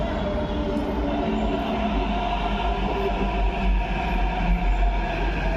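A Hyderabad metro train running on the line produces a steady, loud rumble of wheels and carriage noise, continuous throughout and heard from close range.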